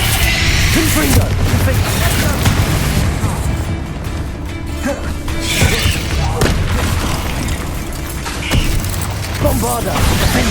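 Confringo blasting spells explode again and again during a Hogwarts Legacy battle, with heavy booms and crashes landing in quick succession over constant game noise and voices.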